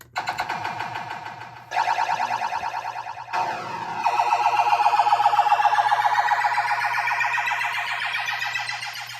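A run of electronic machine tones from a Williams FirePower pinball machine's diagnostic sound set: a buzzing low drone, then warbling, siren-like sweeps that change abruptly every few seconds, loud and continuous without voices.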